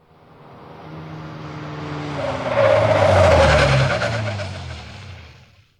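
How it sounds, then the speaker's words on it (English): A cab's tires screech as the driver brakes hard and turns, a rising squeal that swells to a loud peak mid-way then fades out, with engine rumble underneath. "The cab screeched to a halt as the driver applied the brakes."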